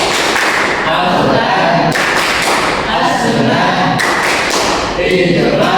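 A classroom of students performs a rhythmic fiqh clapping chant, steady group claps and thumps running throughout alongside loud chanting voices.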